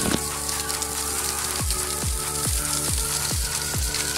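Food sizzling and frying on an outdoor cooker in a park, a steady loud crackling hiss punctuated by regular dull thumps, with no talking.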